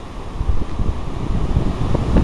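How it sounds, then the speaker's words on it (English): Strong hurricane wind in Massachusetts roars steadily outdoors with a dense, blustery rumble and mic buffeting, surging in gusts throughout without any talking. "look at that wind going"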